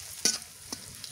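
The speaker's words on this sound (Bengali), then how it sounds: "রসুন আর মরিচটা ভাজতে ভাজতে লাল লাল করে নিই" Garlic and chili frying in a pan, with a few sharp scraping stirs of a spatula over a quiet background sizzle, the strokes spaced apart and close by.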